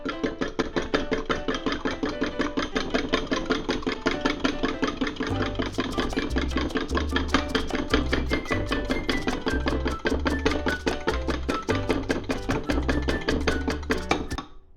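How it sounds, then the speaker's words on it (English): Six eggs are beaten in a bowl, a fast, steady run of close whisking clicks and taps that continues throughout, with a low rumbling hum joining partway through. "pardon me while I beat my 6 eggs"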